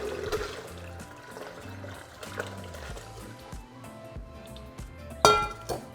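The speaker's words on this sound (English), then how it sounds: "we're going to transfer our tomatoes and chilies into our blender cup along with the water" Cooked tomatoes, chilies and water are poured and tipped into a blender cup, with wet sloshing, splashing liquid and clinks of utensils against the container, close by and with no talking.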